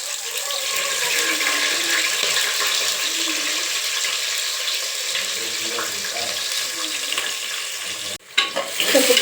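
Chopped onion frying in a pan for mushroom pulao gives a steady, close sizzling hiss. The sizzle stays even for most of the clip and is broken by a brief clatter near the end.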